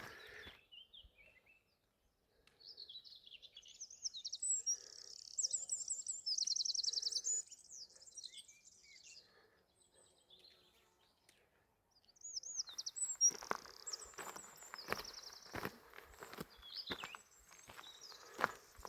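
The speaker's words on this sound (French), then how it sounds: "Ici, les oiseaux chantent en galicien." Songbirds in Galicia trill and warble in repeated bursts at moderate distance. Footsteps crunch along a path through the second half while the birds keep singing.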